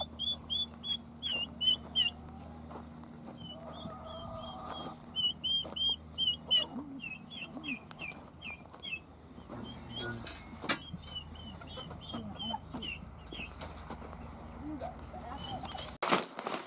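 Chickens cluck and chirp on and off outdoors, with scattered bird calls and a steady low background hum.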